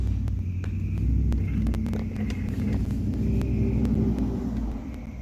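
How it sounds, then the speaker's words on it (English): A loud truck rumbles past in rural Illinois, a deep, steady engine drone that swells and fades over a few seconds with no talk over it. "Everybody's got a loud truck up here"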